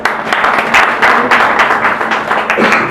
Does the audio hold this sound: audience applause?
yes